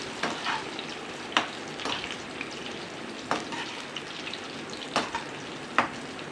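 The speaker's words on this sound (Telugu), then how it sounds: "ఈ వంకాయ ముక్కలు అందులో వేసి ఫ్రై చేసుకోవాలి ఇలా మొత్తం వేసేసి రెండు సార్లుగా కొంచెం కలర్ చేంజ్ అయ్యే వరకు వంకాయ ముక్కలు ఫ్రై చేసుకోవాలి" Brinjal (eggplant) pieces fry in hot oil with a continuous close sizzle, broken by periodic stirring clicks of a spatula against the pan, with no voices.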